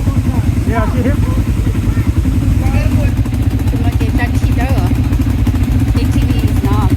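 An ATV engine runs steadily in Bali, Indonesia, a continuous low mid-pitched drone with some rattle, close and loud throughout, while people talk over it.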